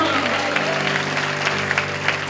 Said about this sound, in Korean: 최고의 함성과 박수를 다시 한번